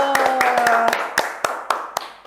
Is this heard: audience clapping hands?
yes